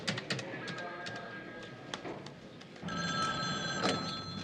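A telephone in a public phone booth rings in repeated bursts of trilling bell tone, fairly quiet, with faint taps and background sounds between rings.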